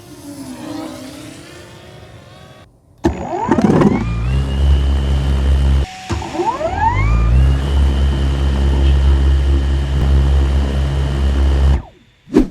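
A DJI Air 3S drone whining as it takes off and flies, a steady high-pitched propeller drone with rising pitch sweeps as it speeds up, close and loud, cutting off briefly midway.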